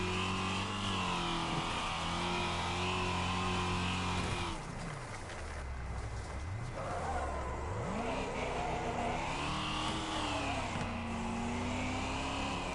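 Racing car engines in the video game Wreckfest roar and rev continuously, pitch sweeping up and down with gear shifts, loud and close throughout.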